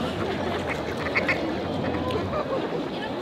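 Ducks squabbling in Mexico City produce a dense, steady wash of quacks and honks at moderate distance, with no single call standing out from the crowd.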